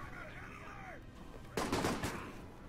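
Gunfire in the stealth-action video game Alpha Protocol, a sudden loud burst of several rapid shots after a stretch of quieter ambience and a faint voice, fading out over about a second.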